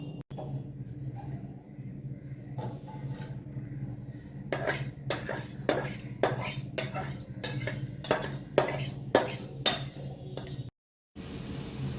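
A vegetable curry is stirred in a pan, with a run of sharp, rhythmic metal spoon scrapes and clinks against the pan over a low background hum, close and fairly loud, no talk.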